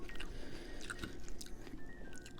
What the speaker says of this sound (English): when you bite into them and they go in with the lettuce and everything, it's so good